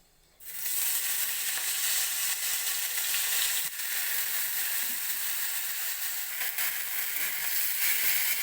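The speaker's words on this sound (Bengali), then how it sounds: "এই মুগ ডালটাও দিয়ে দেবো তেলের মধ্যে" Soaked mung dal hits hot oil with cumin seeds, setting off a sudden loud, bright, continuous sizzle that stays strong and even to the end, with a faint clack partway through.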